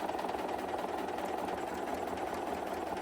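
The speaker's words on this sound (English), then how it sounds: "I'm just going to sew off the edge and cut my thread." Home sewing machine stitching quilt fabric for a birdhouse block, a steady fast mechanical whir with rapid needle rhythm running continuously and close throughout, no talk.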